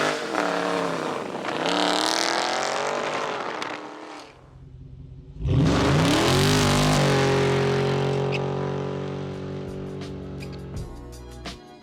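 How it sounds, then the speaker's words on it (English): A 2020 Dodge Charger 392 Scat Pack Widebody with its V8 roars through two loud burnouts, the engine revving hard and holding high, dropping briefly to near silence between them, with no speech. "I did lots of burnouts for you guys"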